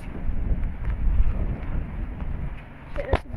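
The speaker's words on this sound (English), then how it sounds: "this wind's starting to pick up right now" Gusty wind buffeting the microphone in a low, rumbling roar, rising and falling, with a couple of sharp knocks near the end.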